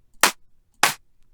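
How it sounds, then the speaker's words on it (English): Two noisy snare-clap hits from a house beat, each a short, bright, crisp burst spaced evenly apart and heard alone. "We've got some clappy, snarey things."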